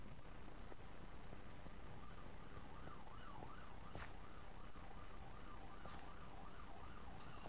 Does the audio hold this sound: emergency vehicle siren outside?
yes